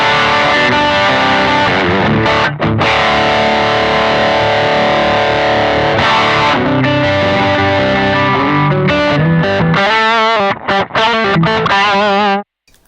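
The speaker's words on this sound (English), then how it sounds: "we are going to place a tube screener mirror in front of it" Electric guitar through a Zoom G5 multi-effects processor with a Tube Screamer-style overdrive set to moderate gain, playing sustained distorted chords and riffs with a few brief pauses, loud and close with no voices.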